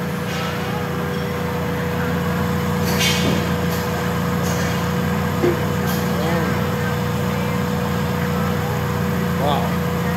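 A Honda B16 engine idling steadily after a fuel pump replacement, a constant close mechanical hum with a few brief exclamations from people nearby.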